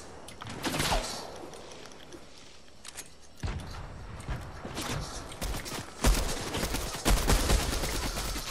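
Video game gunfire from a sniper shooting from behind, with several sharp reports and bursts scattered through the stretch, fairly loud against a busy background.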